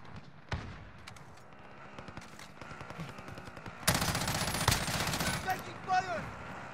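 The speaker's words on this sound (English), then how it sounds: "Taking fire!" Rapid bursts of automatic gunfire rattle through a Call of Duty Warzone team deathmatch in Verdansk, building from scattered shots to a loud dense volley, with faint voices underneath.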